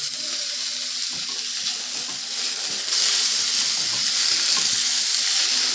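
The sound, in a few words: onion and green chilli frying in ghee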